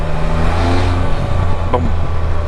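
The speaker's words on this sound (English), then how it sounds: "And now here's another Honda Odyssey." A Honda Odyssey minivan passing nearby on a road along the old Hocking Canal, with a steady low engine hum and tire rumble.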